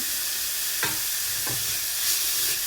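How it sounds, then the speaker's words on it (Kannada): Grated coconut frying in a pan for a dill-leaf saaru, giving a steady broadband sizzle with two brief scraping stirs, close and moderately loud, with no talking. "ಇವಾಗ ಇದಕ್ಕೆ ಕಾಯಿ ತುರಿನ ಹಾಕ್ತಿದ್ದೀನಿ. ಇದನ್ನು ಸ್ವಲ್ಪ ಫ್ರೈ ಮಾಡಿದರೆ ಸಾಕು."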